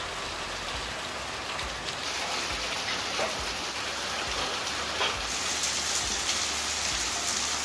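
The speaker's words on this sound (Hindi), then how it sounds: "अभी जरा काम रोकना पड़ेगा क्योंकि बाहर लगी है झमाझम बारिश।" Heavy monsoon rain pouring outside a veranda in the hills, a loud, unbroken roar of downpour drumming on surfaces nearby, steady for several seconds with a slight swell midway.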